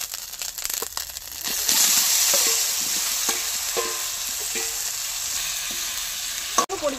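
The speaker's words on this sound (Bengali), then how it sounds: "এবার ভেজে রাখা আলু আর ওলগুলি এই মশলার মধ্যে দিয়ে দেবো।" Fried potatoes and elephant foot yam going into hot oil with ginger-chilli paste and dried red chillies, a loud steady sizzle with intermittent scraping stirs and clinks of a spatula against the pan.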